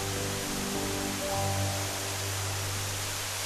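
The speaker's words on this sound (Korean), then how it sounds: "비무장지대에 숨겨놓은 자연의 선물 이온 폭포입니다" Iyon waterfall in the Israeli demilitarized zone, fed by a river flowing from Lebanon, pours in a steady broadband rush of falling water, continuous and fairly close, with a faint low rumble beneath and no voices.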